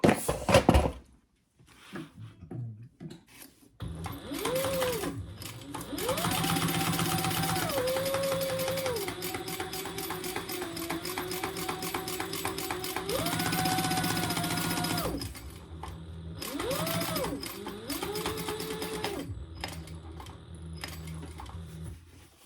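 Sewing machine basting fabric in place while making a tag-along, running in long continuous bursts with brief pauses and speed changes, loud and close, with no talking.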